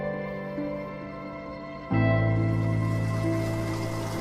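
Spring water running steadily outdoors at an off-grid homestead, a continuous rushing trickle that swells noticeably louder about halfway through and carries on without pause.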